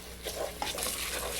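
Basmati rice sauteing in a pan, a soft continuous sizzle with quick stirring scrapes, close and quiet for a brief moment.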